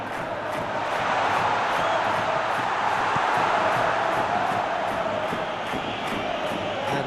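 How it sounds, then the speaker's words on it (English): Stadium crowd roaring steadily in a football video game, a loud, dense wall of cheering and chanting that holds at an even level throughout with no clear pauses. "We have a hugely expectant crowd here."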